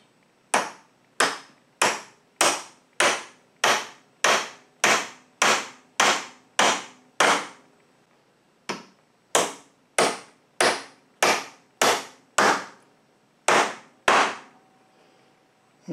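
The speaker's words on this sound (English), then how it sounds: "I've clamped the pieces on the workbench there so I can drive those nails more or less straight down into the vertical pieces of the wood." Nails driven straight down into upright wood pieces clamped on a workbench, struck with a hammer: a steady series of sharp, close wooden knocks, about one per half second, with a short pause midway and no talk.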